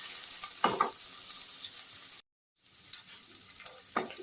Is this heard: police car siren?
no